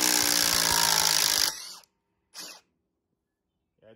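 Impact driver sinking a lag bolt, a dense hammering burst for about a second and a half that stops abruptly, followed by two short separate bursts of noise amid silence.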